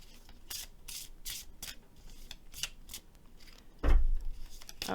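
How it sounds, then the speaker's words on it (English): Fairy Tarot cards by Doreen Virtue and Radley Valentine are shuffled in a series of quick, papery riffling bursts, close and fairly soft, ending in a louder handling thump. "A few more shuffles here."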